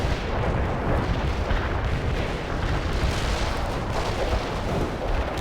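Artillery barrage in the video game World in Conflict, a dense, continuous roar of overlapping explosions and booms, loud and sustained without letup.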